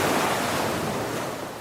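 Sea waves wash steadily beside a moored wooden fishing boat at Tambaklorok on the Semarang coast, a continuous broadband surf roar with some wind, fairly loud and close, with no voices.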